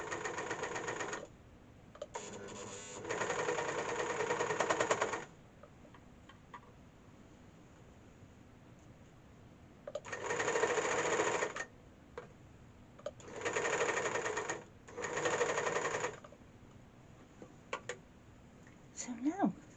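A sewing machine stitches ski pants in three bursts of steady, rapid running. Long quiet pauses fall between the bursts, and the machine sounds close and moderately loud.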